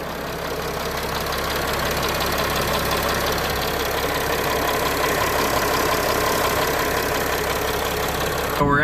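2013 Mercedes Sprinter van engine after an AMSOIL engine flush and oil change: a steady, close mechanical idle hum with a faint ticking clatter, continuous and alone, ending with a brief rustle.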